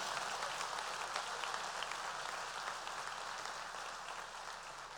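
Steady applause from a church congregation fills the room at a fairly distant, even level for the whole span, with no talk over it.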